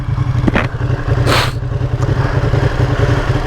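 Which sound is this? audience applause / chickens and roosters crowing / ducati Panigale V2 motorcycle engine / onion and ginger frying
ducati Panigale V2 motorcycle engine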